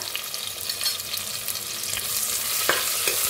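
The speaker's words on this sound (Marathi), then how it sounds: "त्याच्यात टाकूया कांदा, त्याच्यात टाकूया कढीपत्ता," Chopped onion and curry leaves go into hot oil already crackling with cumin, mustard seeds and asafoetida for masale bhaat. They sizzle in a close, steady hiss with faint stirring scrapes and pops.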